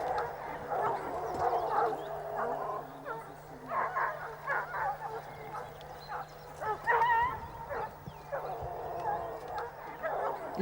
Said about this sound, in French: Les chiens sont bien sur la voie,